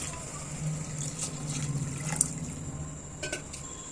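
Water poured into a cooking pot for tomato rice, a steady liquid pour with a low running tone and light splashes, close and continuous for several seconds.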